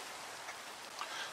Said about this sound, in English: Hopefully the rain will go away when the day comes.